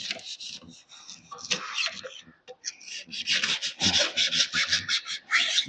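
Abrasive sanding on rusted metal from a Chevrolet Tahoe body, a harsh rasping scrape in quick repeated strokes, loud and close, with a short pause midway.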